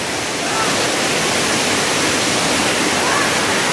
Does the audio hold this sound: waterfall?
yes